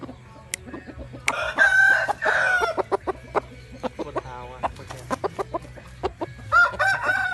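A Black Rose breed rooster, the main breeding cock of the flock, crows loudly up close, twice, with clucking and scattered sharp clicks and scratches in between.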